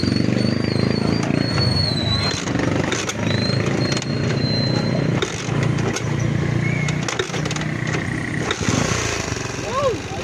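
A Honda TMX 155 motorcycle engine runs after an overhaul, a steady, loud, rough idle that continues throughout, with people talking over it.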